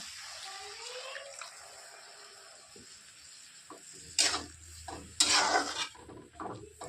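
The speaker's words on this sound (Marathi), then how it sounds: "आता टाकून घेत थोडंसं पाणी" Water splashes into a cooking pan of green chilli and cluster bean curry in two short, loud pours near the end, after a quieter stretch of faint kitchen sounds.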